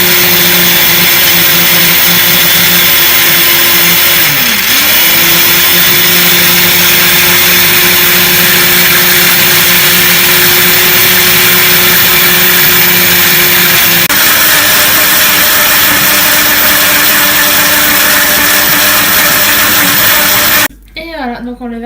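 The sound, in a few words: blender mixing ingredients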